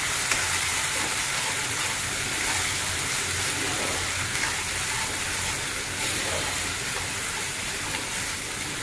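Spices with ground cumin are sautéed in a pan, a loud, dense, continuous sizzle with a hissing wash and faint scraping of stirring underneath, with no talk.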